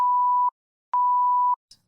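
Two steady censor bleeps, each about half a second long, sit loud and alone with a short pause between them, followed by a brief faint click.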